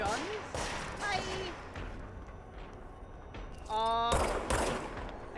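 Enemy guns fire in Control, with sharp gunshot bursts scattered across the scene and a louder volley near the end, mixed with a talking voice and game sounds.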